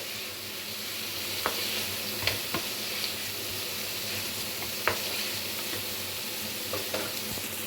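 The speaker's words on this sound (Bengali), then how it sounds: "এবার দিয়ে দেবো যে আলু এবং বরবটিগুলো ভেজে রেখেছিলাম সেগুলো এর ভিতর দিয়ে খুব ভালোভাবে আরও একটু কষিয়ে নেবো" Fried potatoes and yardlong beans being sautéed in a fish curry masala in hot oil: a steady sizzle with occasional scraping clicks of a spatula against the pan, moderately close and without talk.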